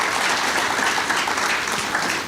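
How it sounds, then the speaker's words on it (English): Conference delegates at an African Plant Breeders Association meeting give sustained applause for discussants and a keynote speaker, a thick, even roar of many clapping hands with no pauses. "We also want to give a round of applause to our discussants and the keynote address speaker"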